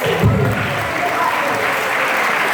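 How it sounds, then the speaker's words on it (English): An audience at a convention panel with the voice actress of Bart Simpson breaks into a loud, full round of applause, a dense, continuous roar of many clapping hands that holds steady, with faint voices briefly underneath at the start. "All right, round of applause for you guys."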